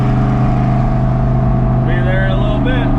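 A shop truck engine drones at a steady highway cruising pitch at 70 mph with constant road roar, close and loud, while a voice speaks briefly near the end.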